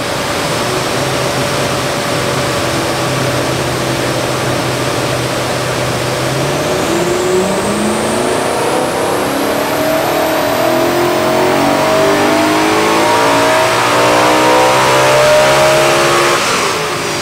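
BMW E9x M3 fitted with an Eventuri intake on a dyno run: loud, close engine idling, then revving up through the gears with rising pitch that climbs steadily to a high wail, no talk.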